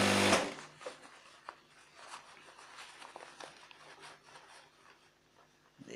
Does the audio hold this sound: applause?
no